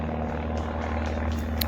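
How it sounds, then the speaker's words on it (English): An airplane drones overhead in a steady, continuous low engine roar, fairly loud and unchanging throughout, with no talking. "here comes the airplane"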